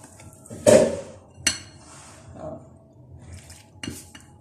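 Gram flour batter being mixed with water in a bowl: a spoon clinks and scrapes against the bowl in a few sharp knocks separated by softer stirring sounds, close up with no talking.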